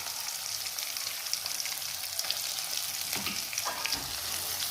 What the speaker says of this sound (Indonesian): Masukkan bumbu yang sudah diulek tadi.